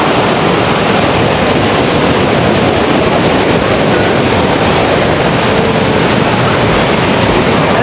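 The glacier-fed Aare River rushes loudly through a narrow Swiss mountain gorge as a steady, dense roar of churning water that fills the whole stretch without letup, close and unbroken, with no voices.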